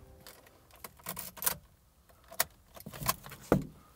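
Car keys jangling beside a broken-down car during a roadside assistance call, a few separate metallic clinks and rattles in sparse bursts, fairly close and quiet between them.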